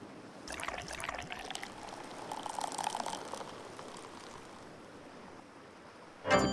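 Beer poured into a glass until it foams, in the Dave the Diver video game: a steady close stream of liquid splashing and fizzing for several seconds, easing off toward the end, then a brief louder knock.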